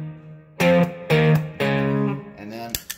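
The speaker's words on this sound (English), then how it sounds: "I have a more broken up bluesy," An electric guitar runs through a JOYO Jackman overdrive pedal set to a broken-up bluesy tone, playing a few loud sustained notes and chords with a gritty edge, followed by a quick strum and fading decay.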